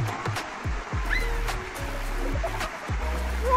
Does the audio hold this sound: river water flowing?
yes